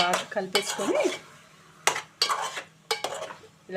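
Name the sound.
stirring bottle gourd pieces in a pot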